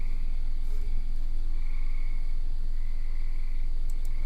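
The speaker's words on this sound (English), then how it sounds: "Can you guys hear the tree frogs and stuff out there?" Tree frogs call outdoors at night in a dense steady chorus, continuous high trilling over a low rumble of background noise, with no one speaking.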